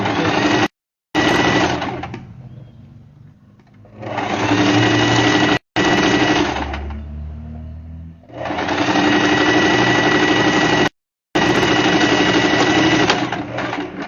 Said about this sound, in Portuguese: com um pé de máquina. Costurando com 1 centímetro